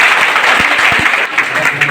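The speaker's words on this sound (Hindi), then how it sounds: "बच्चों के लिए मैं एक बार जोरदार ताली बजाना चाहूँगा" Loud, dense applause from an audience honoring children at an Engineers Day science event, steady sustained clapping throughout with a few sharper claps near.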